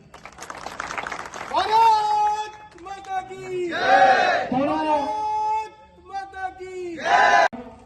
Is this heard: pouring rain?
no